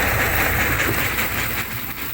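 A pumpkin harvesting combine works in a field, giving a continuous loud, dense mechanical rumble and clatter with a hissing, rattling texture that holds steady throughout.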